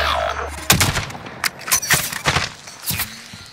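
Gunfire in a Warzone video game set in Baghdad, several loud sharp bursts of shots in uneven clusters, with scuffing movement between them.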